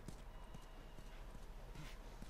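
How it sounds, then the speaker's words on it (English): Horse hooves clip-clop at a steady walking rhythm in The Last of Us video game, faint and somewhat distant under a noisy background. "Oh, there's the horse."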